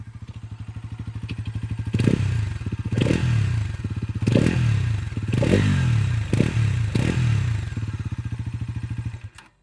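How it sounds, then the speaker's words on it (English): A Bajaj Pulsar NS400Z's single-cylinder 349cc engine idles with a throaty exhaust note, then is revved sharply about six times, each blip rising and falling back to idle. "let's check out कि exhaust note इस bike का कैसा है"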